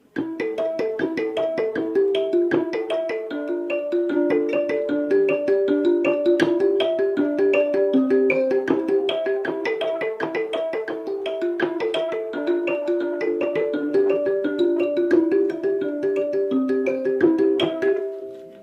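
Bright plucked mbira notes play the song Mugara ndega continuously in a steady, repeating pattern for the whole stretch, clear and close.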